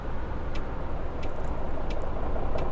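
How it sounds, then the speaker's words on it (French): Trucks passing on a road, a heavy continuous rumble and road roar with faint hiss, steady throughout with no speech. "Ah ouais, c'est le bruit des camions en fait."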